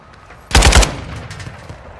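Burst of rapid gunfire in Call of Duty Warzone, several quick loud shots packed into about a third of a second, then a quieter background of game ambience.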